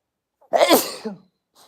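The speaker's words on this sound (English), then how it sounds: "And I got to sneeze, sorry." A single sharp sneeze bursts out up close after a brief intake of breath, followed by a short quiet exhale.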